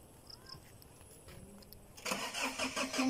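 A car engine cranks and catches after a quiet stretch with faint background sounds, then settles into a rough idle that rumbles close by.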